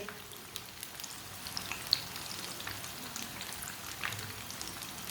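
Dal tikki fry in a pan on a medium flame, a faint, continuous crackling sizzle with scattered small pops throughout.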